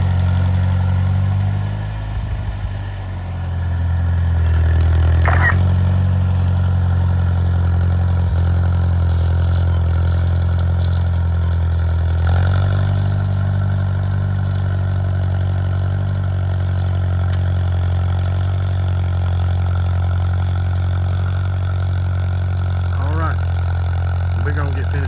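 A Farmall 504 diesel tractor runs steadily while planting corn in a field, a loud, constant low engine drone close by with slight changes in load.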